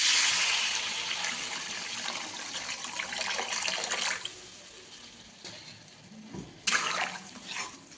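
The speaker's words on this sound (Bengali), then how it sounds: "এবার জল দিয়ে দেবো পরিমাণ মতো।" Water poured into a pan of spiced potatoes and mushrooms, a loud rushing pour at the start that eases into a softer stream, followed by a couple of sharp clatters near the end.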